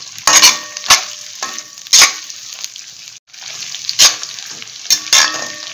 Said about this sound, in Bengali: আঁচটাকে আস্তে করে নিয়ে এটা ভাজছি আস্তে আস্তে।